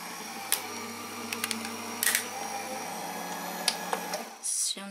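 A Gemini Junior electric die-cutting machine hums steadily as it embosses and cuts, with scattered clicks and ticks and a brief whirring burst at the end.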